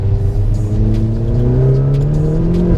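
A Vauxhall Corsa VXR hot hatch with a 200 bhp engine revs on a wet road, a loud, close engine note that climbs steadily in pitch and keeps going without a break, with no voices.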